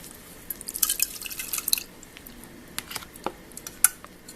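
Syrup poured over soaked tapioca pearls for milk tea, a run of close wet drips, splashes and light clinks against a pot, busiest early and then tapering to scattered drops.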